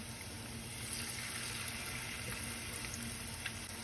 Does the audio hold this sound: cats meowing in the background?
no